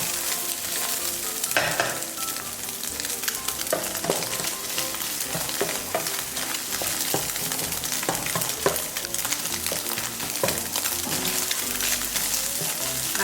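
Minced garlic frying in a pan over medium heat gives a steady, close, dense sizzle, broken by frequent light clicks and scrapes of stirring, with no talking.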